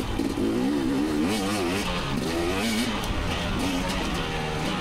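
A 2019 KTM 250 XC two-stroke dirt bike rides a blue OHV trail, its engine loud and close, revving up and down in a wavering, continuous snarl with no talking.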